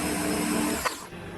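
A small power drill runs steadily while boring a 1.5mm hole in a mill-building workshop job, a close, even whirring that stops abruptly near the end with a brief click.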